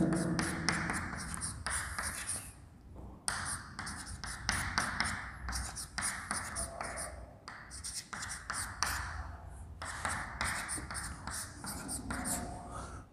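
Chalk tapping and scraping across a board as an equation is written in a lecture, a steady run of short scratchy strokes with brief pauses, fairly faint and close.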